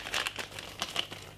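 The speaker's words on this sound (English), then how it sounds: "put in 3 packs of oats" Packets of oats crinkle and tear open as the oats are poured into a pot on a low stove for porridge. The crisp rustling of the wrappers comes close and fairly quiet in short bursts, with no talking.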